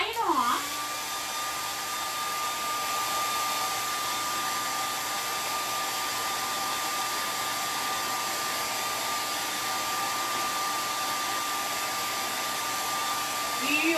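A hair dryer runs steadily and loudly from start to finish, blowing on wet dark brown paint on a canvas, a constant whirring drone with a faint high whine.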